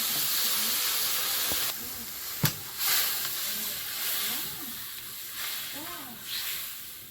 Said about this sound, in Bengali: ঝোলটা ফুটে গেছে এবার ভাজা মাছ